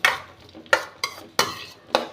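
A spoon stirs onion, tomato and green chilli sautéing in a pan, giving five sharp scraping clacks at an uneven rhythm over a faint sizzle.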